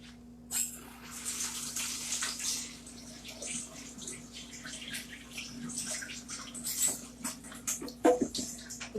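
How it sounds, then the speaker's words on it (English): Hands rinsed under a running kitchen tap while cooking, a steady close splashing flow of water with small gurgles and drips, continuous and without talk. "rinse my hands off."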